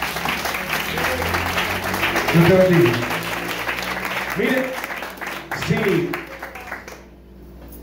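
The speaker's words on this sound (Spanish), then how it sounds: "Deme el aplauso al Señor por esa vida." Church congregation applauding at an evangelistic service, a steady wash of clapping running under a preacher's loud voice for most of the stretch before tapering off near the end.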